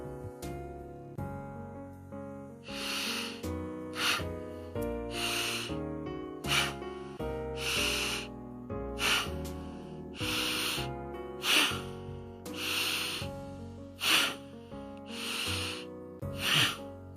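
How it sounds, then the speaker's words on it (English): Rapid, forceful Bhastrika breathing through both nostrils in a yoga breathing exercise, a series of about a dozen sharp, rhythmic sniffing bursts close up, with soft background music underneath. "Quickly inhale and exhale."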